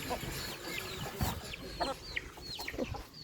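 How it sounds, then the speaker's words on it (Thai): Chickens cluck softly and chirp nearby against a low background hum, with scattered faint tapping. "โอ้ไก่ตัวนี้มาเจาะกินนี่จนอิ่ม"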